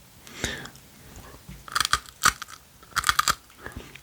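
Freeze-dried sweets being chomped up close, a series of sharp, brittle crunches in irregular bursts with quieter chewing between them.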